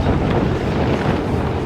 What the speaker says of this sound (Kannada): ತುಂಬ ಗಾಳಿ ಗುರು, ತುಂಬ ಅಂದರೆ ತುಂಬ ಗಾಳಿ.